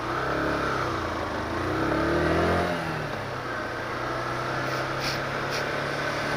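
A Junak RS 125 single-cylinder air-cooled motorcycle engine revs up to a loud peak, then drops back to a steady, rumbling idle close by.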